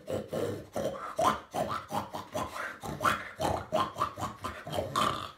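A human voice imitates a pig singing, grunting and oinking in a steady rhythmic series of short nasal bursts, close and fairly quiet, with no other sound.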